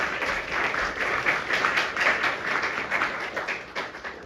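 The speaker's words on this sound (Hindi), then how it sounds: "एक बार जोरदार तालियां हमारे लीडर्स के लिए" Dense applause from an audience at a business meeting, steady and fairly loud throughout with many overlapping claps and no talking.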